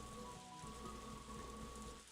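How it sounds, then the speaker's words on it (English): Steady rainfall in the farming game Story of Seasons: A Wonderful Life, a continuous dense patter on surfaces, fairly soft, with a faint tonal hum running underneath and no talking. "Running, dodging all the rain."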